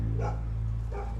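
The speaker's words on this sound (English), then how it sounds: "To listen to barking dogs" Dogs let out two short barks about a second apart, muffled and at a moderate distance, over a steady low hum.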